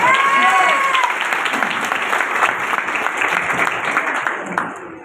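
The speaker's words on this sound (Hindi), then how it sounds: "सबके ताली होना चाहिए।" Audience applause at a Safe Shop business gathering, a strong crowd clapping that rises at once and continues under a voice talking through a microphone, then tapers off.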